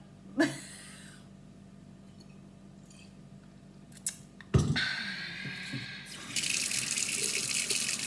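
Washing up at a kitchen sink: a couple of clinks of dishes, then a tap gushes on and water runs steadily and fairly loudly into the basin.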